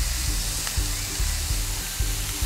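Onions, capsicum and carrots sizzle steadily while roasting in a pan with salt, a continuous frying hiss with soft periodic stirring bumps, close and alone.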